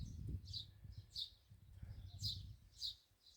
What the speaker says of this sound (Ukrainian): ранок чудовий, птахи співають